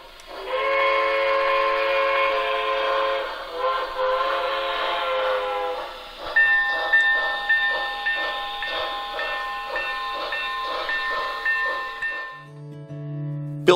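A model K4 steam locomotive sounds a sustained, chord-like whistle, then a second whistle blast pulsing over rhythmic chuffing, ending with a short lower tone; loud and close, with no talking.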